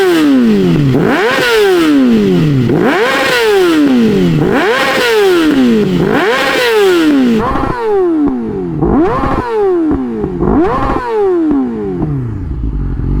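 A 2019 Yamaha R6 sport motorcycle engine revs hard and repeatedly at close range, each sharp climb snapping back down in a steady rhythm of about a dozen rising-and-falling bursts, with no voices over it.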